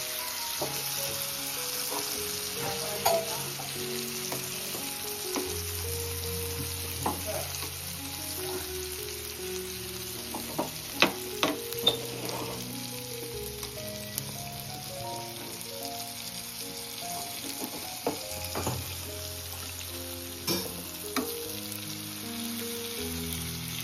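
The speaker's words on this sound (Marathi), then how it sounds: "मस्त मच्छी सर्व पलटी करून झाली आहे. बाकी 5 मिनिटात सर्व मच्छी फ्राय होईल." Fish frying in a pan on a wood-fired clay stove, with a steady, moderate sizzle and scattered crackles and pops running throughout and no talking.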